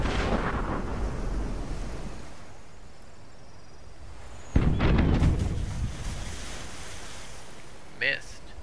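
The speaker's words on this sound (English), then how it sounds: "So with the mortar you can attack enemies over long distance" A ship's mortar in the pirate video game Tortuga A Pirate's Tale fires with a deep boom that dies into a rolling rumble, over ocean waves and wind, with a second, shorter thud near the end.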